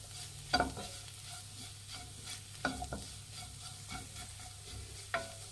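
Carrot rice spices are stirred in a frying pan, with a soft continuous sizzle and a few sharp scraping knocks of the spoon against the pan at irregular intervals, quiet and close.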